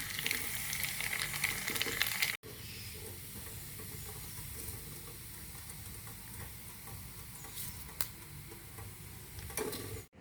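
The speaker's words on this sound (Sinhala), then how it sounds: "මෙන්න මේ වගේ ලස්සන පාටක් එනකම් බැද ගන්න ඕන." Leftover rice frying in oil for homemade rice crispies gives a dense, continuous crackling sizzle, close and steady, with a brief drop partway through and faint ticking stirs on top.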